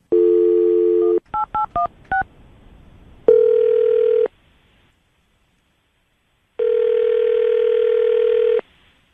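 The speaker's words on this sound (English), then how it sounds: "we'll call him right now, see if we can get him on the phone" A phone dial tone, then a quick series of keypad beeps, followed by ringing tones with a silent gap between them, placing a call to a radio show.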